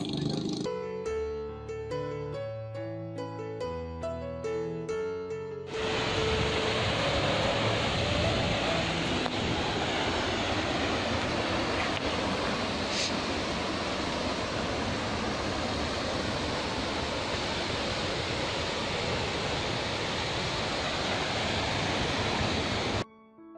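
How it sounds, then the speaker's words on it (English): A mountain waterfall near Badrinath roars continuously and loudly, a thick, even rush of water that starts abruptly after a short stretch of music and carries on steadily without talk. "There's a beautiful waterfall."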